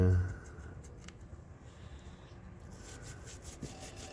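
A can is scraped clean with quick, gritty rubbing strokes that repeat close up at a moderate level, with a brief louder knock near the start.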